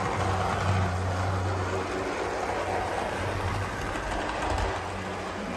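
The small electric motor of an old Athearn Blue Box CN U33C model locomotive whirs and buzzes steadily as it runs along track, with a continuous rattling hum.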